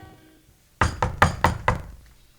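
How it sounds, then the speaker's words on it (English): Five quick knocks on a door, close and sharp, in a fast even rhythm after a near-silent pause, with no voices. "Sometimes a knock is just a knock, no matter what knocker is doing the knocking."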